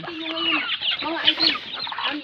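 Several chickens cluck and chatter together continuously, a busy overlapping flock sound at close range with no talking.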